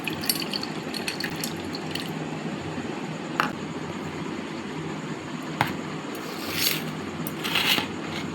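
Tamarind water is poured from above into another vessel while preparing sour water for fuchka. A soft, steady splash and trickle runs under a few sharp clinks and taps, with no voices.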